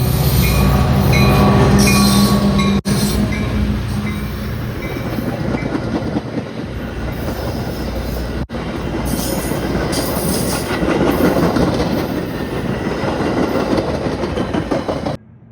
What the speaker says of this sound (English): an outbound Metro led by F40PH-2 164.